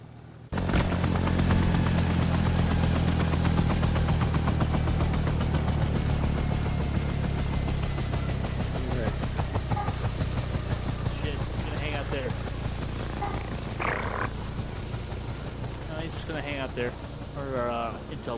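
A helicopter in Arma 3 starts up and runs with a loud, steady engine roar and rotor drone that holds throughout, with people talking over it.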